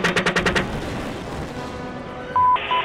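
US soldiers firing on a target on a hill, a quick burst of about six sharp shots in the first half second, then a fading rumble and a brief radio tone near the end.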